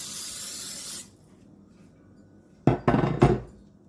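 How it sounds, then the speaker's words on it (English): Cooking spray hissing onto the bottom of an 8x8 baking dish in one steady burst lasting about a second, followed after a pause by a few quick clunks of the can or dish being handled. "I'm going to go ahead and spray it lightly with cooking spray on the bottom"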